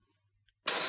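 After near silence, a spray gun abruptly starts, releasing a loud, steady hiss of rust-protection undercoating close by into a vehicle's wheel wells.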